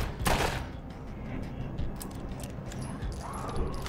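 Gunfire from a survival zombie game, State of Decay 2: a few sharp shots spread over the moment, the sharpest near the start, against a steady dense game backdrop.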